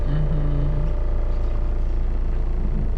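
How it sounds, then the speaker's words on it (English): Automatic car pulling away slowly as the brake is released, a steady close engine hum and low rumble with a faint squeak early on; no one speaks. "And the car is moving"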